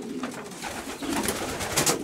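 A Vimuler racing pigeon coos in a loft, soft repeated throaty calls over a murmur of other birds, fairly close and moderately quiet.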